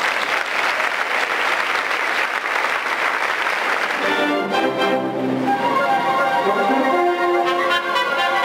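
Loud, dense audience applause for community children's music groups at a symphony orchestra event in Campeche, lasting about four seconds before giving way to sustained musical tones.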